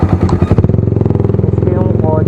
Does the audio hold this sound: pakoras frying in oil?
no